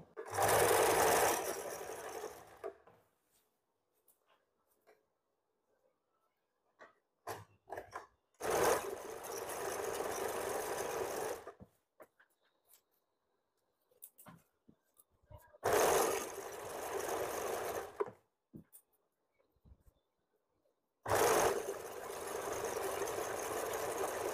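A sewing machine stitches the side seam of a cotton frock in four loud, close bursts of rapid whirring, separated by quiet gaps with small clicks of fabric handling.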